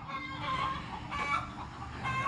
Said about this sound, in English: Something's got the chickens all stirred up.